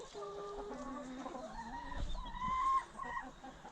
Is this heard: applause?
no